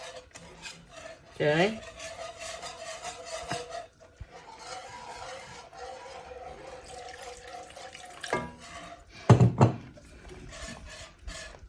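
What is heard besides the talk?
stirring roux into enchilada sauce in a pot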